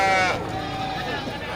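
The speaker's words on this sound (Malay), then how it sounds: "ini kambing jantan ya" A male goat at a goat market gives a single wavering bleat at the start, loud and close, over background crowd chatter and market noise.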